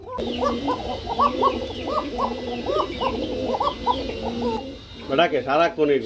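Running Siraj Kuka pigeons coo repeatedly in a steady, rhythmic series of close, fairly loud calls. Near the end a voice speaks over them.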